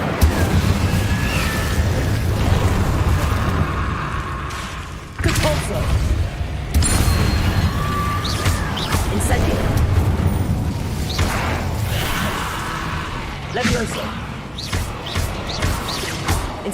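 Repeated Repulsor spell blasts in Hogwarts Legacy, heavy booming bursts that land at intervals over a steady game background, with a voice speaking between them.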